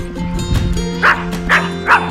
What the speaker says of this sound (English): We're not barking at the cows.